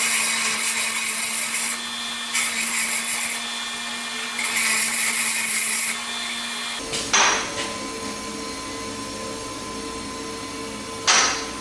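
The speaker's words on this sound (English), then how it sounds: "Take those to the grinder and clean them up a little bit." A grinder cleans up small cut pieces of metal tube, running in a steady whine for several seconds, then stopping and giving way to short scraping bursts and brief grinding touches.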